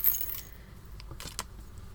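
Small glass beads clink and rattle briefly into a container, a few light scattered taps close by in a quiet room.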